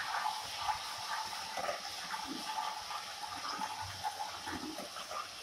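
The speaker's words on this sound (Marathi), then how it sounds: "अशा प्रकारे आलं लसूण मी तेलामध्ये फ्राय करून घेते।" Ginger-garlic paste frying in hot oil for a village chicken curry, giving a steady, moderately loud sizzle and hiss that runs unbroken throughout with no talking.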